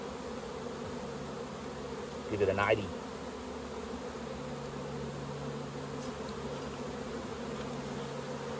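Honey bees hum steadily around an open beehive frame during autumn hive work, a soft continuous drone with a brief louder burst; a person speaks briefly over the buzzing.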